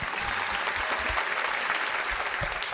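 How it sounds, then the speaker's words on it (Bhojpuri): A studio audience applauds steadily throughout a Hindi comedy talk show stage episode, a dense and continuous wash of many hands clapping close by with no gaps or talk. "ताली बजाते रहेंगे चाहिए।"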